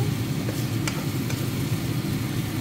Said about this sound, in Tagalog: Ayan, haluin natin. Haluin, haluin.